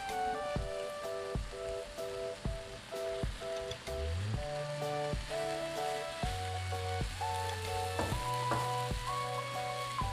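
Day-old rice fries in a pan for Indonesian nasi goreng, giving a steady soft sizzle beneath melodic background music.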